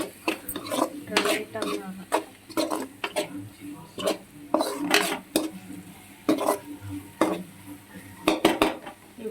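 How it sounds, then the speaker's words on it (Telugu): A utensil stirs spiced pasta sauce in a metal pan, with repeated clinking scrapes against the pan in an irregular rhythm and a soft sizzle underneath. "వేసేసుకొని కొంచెం బాగా కలిపి గ్రేవీ లాగా అయిపోయింది"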